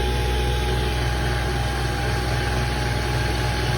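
A small mill, hobbled together with a belt drive, cutting metal with a 3/4-inch three-flute A-style carbide insert mill at a light 10-thousandths cut, giving a loud continuous steady machine hum and whine with no talking.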